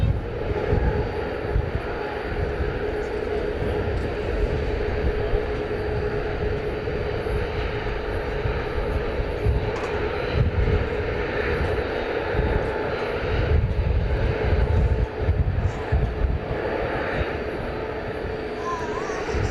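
Airliner taking off from runway 18 Left at DFW airport, a loud continuous roar of jet engines held steady throughout at close to moderate distance.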